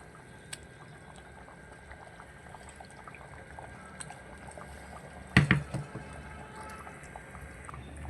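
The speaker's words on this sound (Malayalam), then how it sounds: "ഇനി നമുക്ക് കഴുകി വൃത്തിയാക്കി വെച്ചിരിക്കുന്ന നമ്മുടെ മത്തി ഇട്ട് കൊടുക്കാം." Cleaned sardines drop into a pot of bubbling mango fish curry, giving a short cluster of soft plops and splashes over a steady low simmer.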